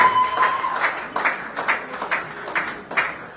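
Applause from an audience at a couple's reconciliation ceremony: a steady wash of clapping that swells in repeated bursts, moderately loud, with no talk over it.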